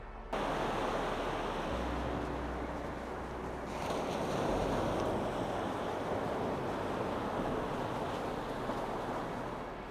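Steady surf and gusting wind on a beach on Berneray, a loud continuous wash of breaking waves with wind rumbling across the microphone throughout.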